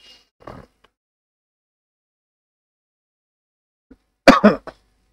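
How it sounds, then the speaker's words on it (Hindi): A faint short cough, a long silence, then a louder, harsh cough burst close to the listener. "थोड़ा सा खांसी आ रहा है"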